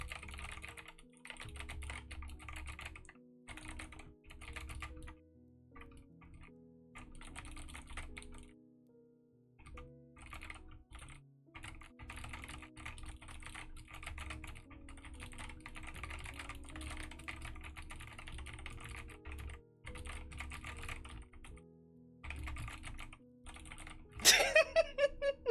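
Steady typing on a new mechanical computer keyboard, crisp key clacks in close, continuous runs with brief pauses, ending in a louder burst of rapid strikes.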